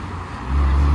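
Volkswagen Lupo driving out at a Japanese car meet in Reading, a steady low engine rumble that swells louder and nearer halfway through the brief moment.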